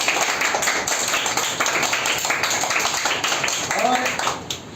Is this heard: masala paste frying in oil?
no